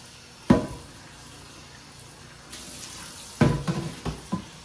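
Water from a kitchen tap rinses a scrubbed baking pan: one sharp splash, a quiet stretch of running water, then a cluster of short, louder gushes and splatters near the end.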